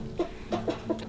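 A rooster clucks among a flock of hens, giving four short, separate clucks close by in a quiet coop.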